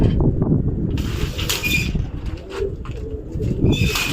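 Pigeons coo in low, throaty bursts as they settle into their coop after a training flight, several birds close by with soft rustling around them.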